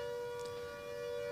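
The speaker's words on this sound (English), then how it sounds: "we have a siren going off" A civil defense siren sounds a steady, sustained tone, droning evenly in the distance with no talking.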